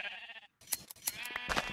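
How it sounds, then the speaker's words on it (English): Sheep in Minecraft bleat in short wavering calls, a couple of close, clear bleats with a brief gap between them and no talk. "We've got sheep all the way around."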